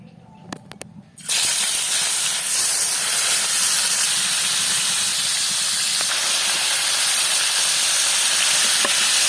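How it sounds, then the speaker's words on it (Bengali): Rohu fish rubbed with turmeric and salt fries in soybean oil, bursting into a loud, continuous hiss and sizzle after a few quiet clicks, close and steady to the end. "রুই মাছ ভাজা হয়ে গেছে।"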